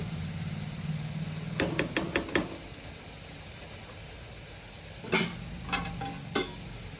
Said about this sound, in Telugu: ఉల్లిగడ్డ పచ్చిమిర్చి బాగా ఫ్రై అయింది